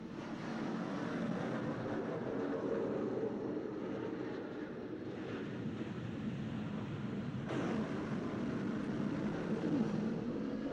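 Harrier jump jets taking off from the carrier HMS Hermes during the 1982 Falklands conflict, heard as a steady, heavy roar that fills the whole stretch without a break. There is no talk.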